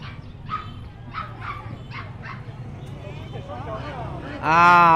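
Dogs yipping and whimpering at a busy highland market in northwest Vietnam, short repeated barks and whines close by amid crowd chatter and talk, ending in a loud burst.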